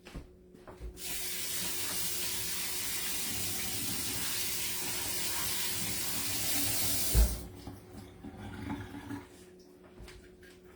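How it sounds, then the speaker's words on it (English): A kitchen sink tap runs in a steady, close rush of water for about six seconds while something is rinsed, then shuts off with a soft clunk, leaving light handling noises. "I'll give it a nice rinse over by the sink"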